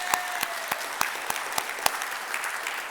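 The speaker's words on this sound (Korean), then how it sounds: "우리 하나님께 영광의 박수." A church congregation claps during a sermon, giving moderate, evenly paced applause in which a few sharp claps stand out above a dense clatter. No voices can be heard.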